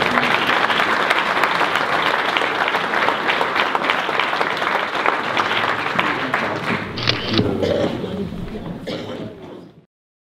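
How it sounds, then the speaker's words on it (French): Sustained applause from a crowd at a 2020 New Year's greetings ceremony, dense and steady clapping for about nine seconds before fading out, with a few voices rising near the end. "on peut l'applaudir"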